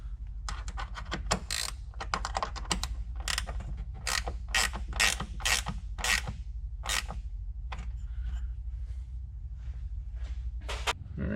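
A ratchet turns a bolt back into a JLT oil separator bracket on a 2007-2020 Toyota Tundra 5.7L, giving repeated short clicking bursts close up with small mechanical creaks and no talking.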